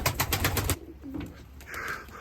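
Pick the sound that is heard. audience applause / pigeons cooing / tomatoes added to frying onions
pigeons cooing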